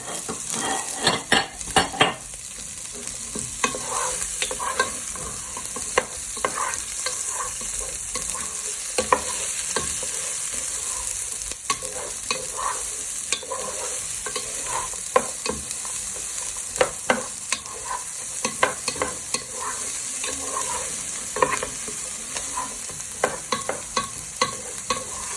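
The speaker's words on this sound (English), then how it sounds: "now to add your onion. Let them fry with your chorizo" Onions and chorizo sizzle in a pan for a prawn and chorizo risotto, with a steady hiss and frequent scrapes and clicks of stirring against the pan.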